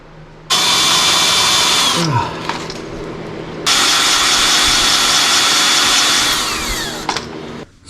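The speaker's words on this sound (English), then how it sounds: "drill a bunch of holes and get this on there" Loud, steady whine of a power drill biting into a metal skid plate for a rock buggy in two long bursts, with a short pause between and a brief spin-down at the end.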